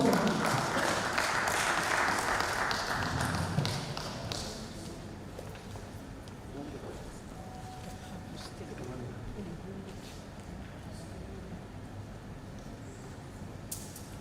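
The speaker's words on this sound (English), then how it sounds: "A round of applause for him." A burst of audience applause at a NUJIC press week gathering for a goodwill message speaker, fairly full for about four seconds, then fading into a quieter room with low background noise.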